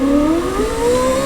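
A Mitsubishi Montero power window motor whirs steadily as the glass rises, a continuous close droning tone that slowly climbs in pitch, with no talking.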